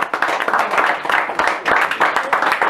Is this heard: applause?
yes